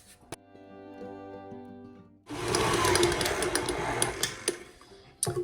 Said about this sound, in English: now I'm going to bump the mixer up to medium and I'm going to blend everything for 2 minutes